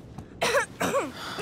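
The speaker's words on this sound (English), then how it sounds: "That cough doesn't sound too good." A character in the video game Life Is Strange 2 coughs twice, hoarse and close, the two rough bursts following a faint breath, with no talk over them.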